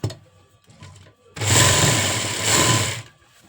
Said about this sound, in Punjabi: ਹੁਣ ਆਪਾਂ ਦੂਸਰੀ ਬਾਹ ਤੇ ਵੀ ਸਲਾਈ ਲਾ ਲੈਣੀ ਹੈ